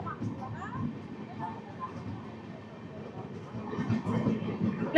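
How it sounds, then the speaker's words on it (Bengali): A passenger train running from Kolkata toward Nagaland rumbles along the track past houses at a steady, moderate level, with a few faint clatters and some voices in the background. "মনে হচ্ছে একটা পাড়ার মধ্য দিয়ে ট্রেন আগিয়ে চলেছে সামনের দিকে"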